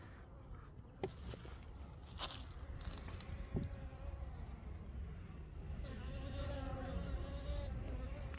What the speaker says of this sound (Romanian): Ce albină zboară.